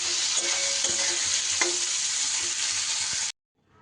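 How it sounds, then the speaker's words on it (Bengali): Chopped onion stirred and fried in a pan gives a loud, steady sizzle with occasional scraping clicks of the stirring utensil, cutting off abruptly near the end with no talking. "পেঁয়াজটাকে আমি বেশ নেড়ে চেড়ে ভাজা করে নেব"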